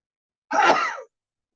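A single sneeze, close and fairly loud, a short burst of breathy noise lasting about half a second, with silence before and after.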